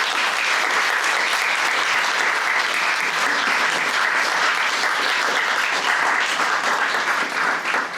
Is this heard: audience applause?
yes